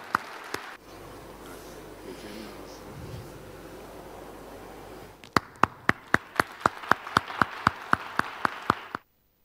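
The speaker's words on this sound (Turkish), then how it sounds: "bir alkış rica ediyorum sizlerden" An audience at a Ramadan event claps after a low murmur and background noise, first a lone sharp clap, then a loud burst of roughly a dozen claps struck together in a steady, even rhythm that stops abruptly.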